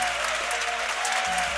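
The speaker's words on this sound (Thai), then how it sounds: "ปรบมือให้ Next หน่อยได้ไหมคะ" A crowd claps at a concert press conference for a singer's show. The clapping is brief, dense and even, filling the room at a steady loudness from start to finish.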